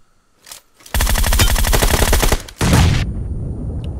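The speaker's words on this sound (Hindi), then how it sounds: "अब एनिमी ने मुझे फायर किया" Enemy automatic fire in a mobile shooter game rattles out as a loud, rapid burst of about a second and a half, then a short second burst follows, with near silence before it begins.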